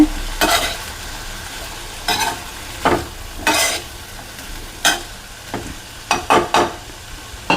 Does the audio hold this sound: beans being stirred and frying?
yes